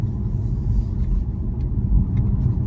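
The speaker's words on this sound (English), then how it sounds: "just driving on through a bridge now, maintaining 30 at 30" A car drives at night along a road at a steady 30 mph and passes through a bridge. The engine and tyres give a low, steady rumble heard from inside the car, with faint brief higher sounds.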